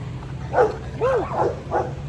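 A pitbull gives a few short barks and yips, spaced unevenly over a couple of seconds, fairly close, with a steady low hum underneath.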